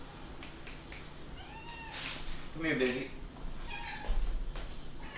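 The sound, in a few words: pet cat meowing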